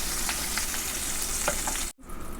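Nigella seeds sizzle in hot oil left over from frying fish, a close, steady crackling hiss with small pops, broken by a brief silence before the sizzle resumes.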